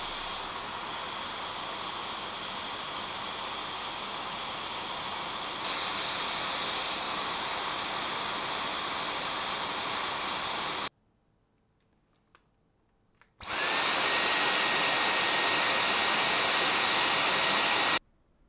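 A Dyson Digital Slim cordless vacuum cleaner runs with a steady high-pitched whine, gets louder partway, cuts off briefly, then returns in boost mode at a louder, harsher level before stopping.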